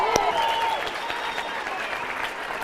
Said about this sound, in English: give yourselves, everybody included, give them a round of applause